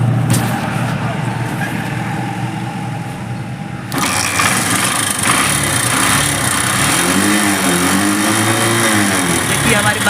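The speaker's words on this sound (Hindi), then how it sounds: "फिर एक बार बाइक स्टार्ट करके देखते हैं।" A TVS Star Sport motorcycle, just repaired for a weak lighting-coil fault, starts up around midway and settles into a steady, close idle over a faint background.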